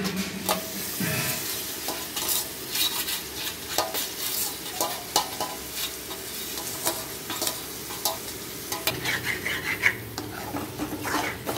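Mutton being stirred in masala in a pot, with steady scraping and clinking of a spoon against metal over a continuous sizzle, rhythmic and close throughout.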